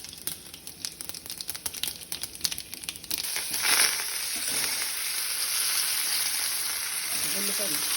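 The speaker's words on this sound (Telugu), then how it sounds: "తాలింపు వేసాను." Tempering spices dropped into hot oil in a kadai for a broad bean and coconut fry, first crackling pops and spatters, then a loud steady sizzle that carries on to the end.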